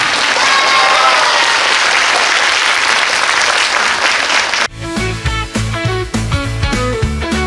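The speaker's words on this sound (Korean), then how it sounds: "박수 부탁드립니다." Sustained loud applause from an audience after a student presentation at a youth social-participation competition, dense and steady for several seconds before music cuts in.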